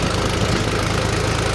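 A Mahindra 265 tractor engine runs steadily at low revs, a close, loud, continuous rumbling drone with a slight knocking pulse and no talk over it.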